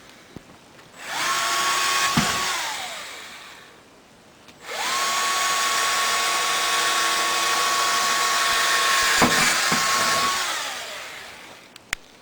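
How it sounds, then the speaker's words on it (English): A power drill bores pilot holes into wall studs, sized for mounting screws, in two long whining bursts that ramp up, hold steady and wind down, close and loud with no talk. "We found a drill bit that was about the right size pilot for our screws."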